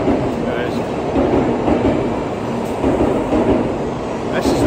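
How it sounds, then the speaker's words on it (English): A Shinkansen bullet train in Tokyo, Japan roars steadily past close by, a dense rushing rumble with faint rhythmic wheel clatter throughout. "This is the bullet train, Shinkansen."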